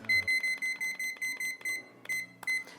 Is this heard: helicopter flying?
no